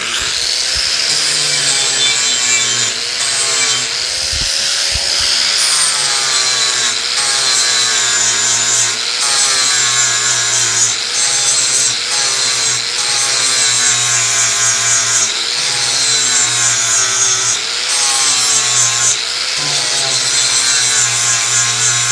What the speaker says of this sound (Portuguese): Pronto, feito a lixação aqui, tá vendo? O acabamento.